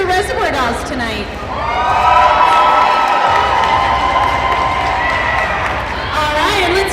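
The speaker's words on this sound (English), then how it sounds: "How many folks out there cheering for the Reservoir Dolls tonight?" Roller derby crowd at an indoor bout cheers and shouts for the Reservoir Dolls, a sustained loud swell of many voices that builds and holds for several seconds.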